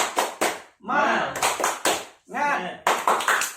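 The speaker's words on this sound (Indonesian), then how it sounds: "Mari kita tepuk semangat dulu sareng-sareng." A group at a training session does a rhythmic spirit clap together, with loud, sharp clap bursts in a repeating pattern alternating with voices chanting in unison close by.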